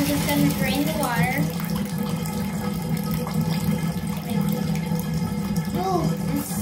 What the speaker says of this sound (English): We're just gonna drain the water.